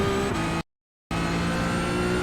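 A Porsche 992 GT3 Cup race car engine at full throttle in iRacing at Sebring, a loud steady high-revving drone cut by a short silent gap before resuming.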